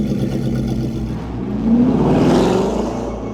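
A Bugatti Bolide, the 1600hp track car, floored in first gear from the pit lane against a 40 mph limiter; a loud, steady engine drone swells and climbs in pitch partway through, sustained and close.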